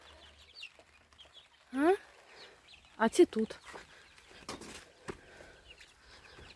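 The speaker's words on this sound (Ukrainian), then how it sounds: "Курчата щось сваряться." Young chickens squabble in an outdoor run covered with plastic sheeting, giving a few sharp rising chirps and squawks amid quiet rustling while someone speaks briefly.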